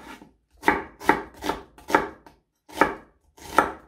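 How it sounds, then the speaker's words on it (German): A knife slices onions into thick slices on a cutting board, six crisp, evenly spaced cuts that ring out close and clear with no talking. "ich schneide die Zwiebeln einfach in etwas dickeren Scheiben runter"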